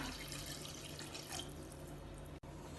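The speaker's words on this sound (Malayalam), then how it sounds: "ഇനി ഇതിലേക്ക് ഒരു കപ്പ് വെള്ളം ചേർക്കാം" A cup of water is poured into a pan of chicken biryani masala, making a steady, faint, continuous splashing rush throughout, with no speech.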